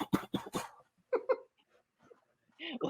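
Someone coughs three times in quick succession close to the microphone, followed by scattered quieter throat sounds and a brief stretch of voice.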